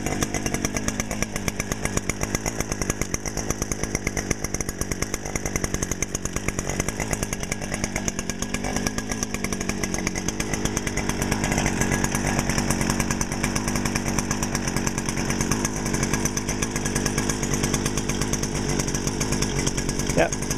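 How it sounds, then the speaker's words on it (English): A mid-sized 40cc chainsaw engine runs continuously at a steady idle, buzzing close and loud, with a couple of slight pitch dips along the way. "Mid-sized chainsaw motor."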